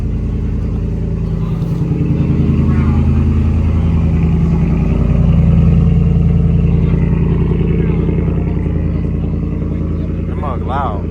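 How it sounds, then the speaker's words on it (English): A Ford F-150 engine idling loud and rough after a cold start, a deep steady rumble with slight shaky wavering, close by, and people talking over it at times. "This one kind of loud. It is a cold start"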